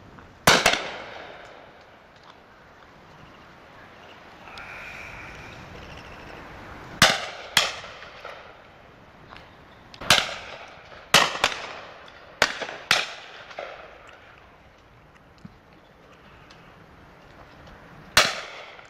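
Shotguns fire at driven pheasant and partridge on a January shoot day, sharp loud reports arriving singly and in quick pairs over about nineteen seconds, with one more distant pop between them and open-air quiet in the gaps.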